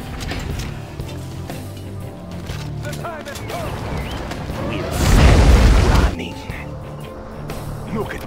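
A GLA quad cannon in Command & Conquer Generals Zero Hour fires a roughly one-second burst of booming rapid shots amid battle noise and in-game unit voices.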